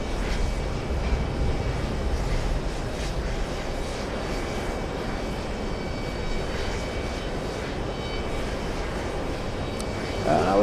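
A Lufthansa quadjet airliner taxis at JFK airport, its engines a steady, moderately loud rumbling drone heard from a distance, continuous for the whole stretch with no talk.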